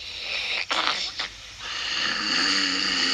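A sleeping sheepdog puppet's sonorous snoring, imitated by a voice: a few loud rasping, wheezy breaths close up, followed by a softer sustained airy exhale.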